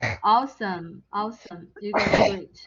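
A single sneeze bursts out in a classroom review session, brief and loud near the end, following a man's upbeat spoken praise.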